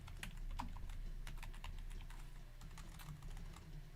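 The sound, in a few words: typing on a computer keyboard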